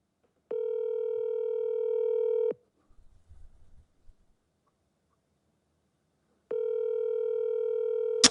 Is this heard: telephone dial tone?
yes